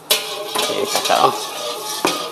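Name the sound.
stirring kway teow noodles in a pan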